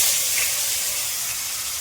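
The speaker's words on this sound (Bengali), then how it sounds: "সকালে বেগুন ভাজার তেলটা ছিল, ওটার মধ্যে ভেজে নিচ্ছি" Vegetables fry in leftover oil from frying brinjal, giving a steady, close sizzling hiss that fades slightly and has no talking over it.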